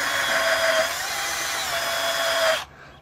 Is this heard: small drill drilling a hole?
yes